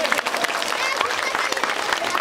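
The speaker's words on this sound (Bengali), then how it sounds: "আমরা সবার জন্য একটি করতালি দেই" An audience claps together at a Mujibur Rahman Pre-Cadet School event, a dense, steady patter of many hands holding for the whole stretch with crowd murmur mixed in.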